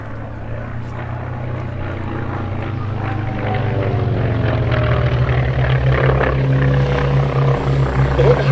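Propeller aircraft, including a Grumman FM-2 Wildcat, take off at the Duxford airshow: a steady loud engine drone with rising harmonic whine that swells as four planes get airborne, continuous throughout.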